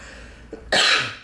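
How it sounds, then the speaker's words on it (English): A single sharp cough bursts out after a brief quiet moment, loud and close, with a smaller throat sound just before it. "excuse me, I'm getting over a cough"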